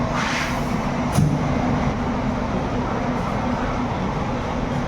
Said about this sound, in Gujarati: બેસી ગયા મેટ્રોમાં.